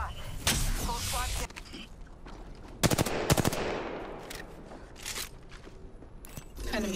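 Apex Legends gunfire cracks out in short automatic bursts and single shots, loud and close, amid game sound effects, movement and a low background voice.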